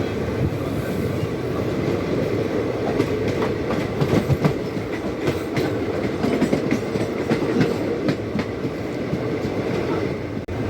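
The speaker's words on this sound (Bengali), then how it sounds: "এটা হলো 12347 আপ হাওড়া রামপুরহাট শহীদ এক্সপ্রেস।" The 12347 Up Howrah–Rampurhat Shahid Express rolls through Bolpur Shantiniketan station with a steady, close, loud rumble and a continuous clickety-clack of wheels over rail joints, and no voices.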